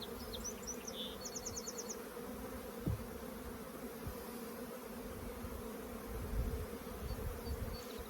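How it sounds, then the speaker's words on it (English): Honey bees buzz in a dense, continuous drone inside a hive being split early in the season as frames of brood are lifted out. A few soft knocks from handling the frames sound over the steady hum. "That's a lot of bees in here."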